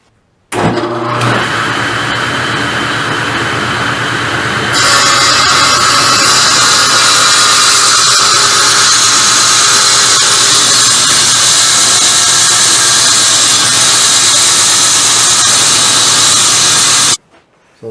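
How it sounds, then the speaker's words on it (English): Table saw trimming the edge of a banjo neck for a flat gluing surface: a steady loud whine and roar that rises sharply as the wood feeds into the blade, sustained for about fifteen seconds and then stopping abruptly. "I trim it off by running it through my table saw and getting a nice flat surface"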